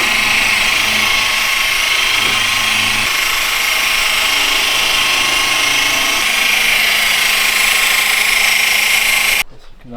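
A machine polisher runs at medium speed, cutting paint on a Morris Minor Traveller body panel. It gives a loud, steady, unbroken whir close by that cuts off abruptly just before the end.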